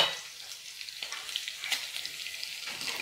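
A little olive oil heating in a pan for frying homemade hamburgers, a close, steady crackling sizzle with fine spitting pops, and no talk over it.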